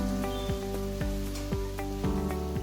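Masala with ginger garlic paste and tomato sizzles in a pan over low heat for a Bengali chicken curry, a steady close frying hiss with a few rhythmic scraping stirs.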